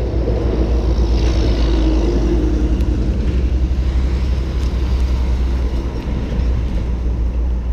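Heavy truck traffic on a road next to an RV park in Bushnell, Florida, giving a continuous loud rumbling roar of passing vehicles with no talk.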